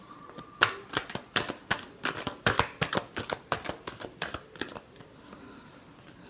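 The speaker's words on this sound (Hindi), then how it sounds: "Last shuffle." Tarot cards being shuffled by hand, a rapid run of about twenty crisp riffling snaps in steady rhythm, close and clear, slowing and thinning out near the end.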